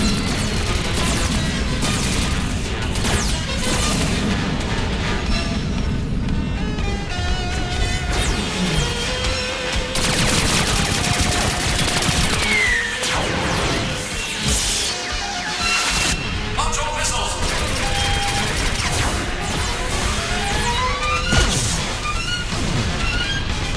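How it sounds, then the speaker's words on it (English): Gunfire and weapon blasts from the 1985 animated series Robotech: The Macross Saga, a dense, continuous barrage of crashing, booming shots with whooshing effects over a dramatic musical score, steady and loud throughout. "Zero, commence firing."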